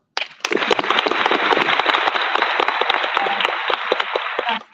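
A conference audience breaks into loud, sustained applause that starts abruptly. Dense clapping from many hands fills the room for several seconds before it cuts off.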